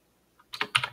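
Computer keys clatter in a short quick burst of typing, close and clear, after a single faint tap and a moment of quiet.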